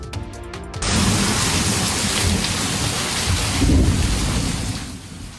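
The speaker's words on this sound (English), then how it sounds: "We begin with severe storms moving out of North Texas right now." A severe thunderstorm with rain and hail in North Texas roars in after a brief lead-in, heavy continuous rain with low rumbling thunder and wind buffeting the microphone, loud and unbroken throughout.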